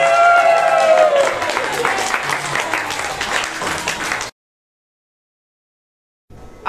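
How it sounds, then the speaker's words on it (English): Studio audience at a live game show applauding going into a commercial break, a loud burst of clapping with a whistle or cheer early on that stops abruptly, then a brief silence before sound resumes. "You can applaud as we go into commercial."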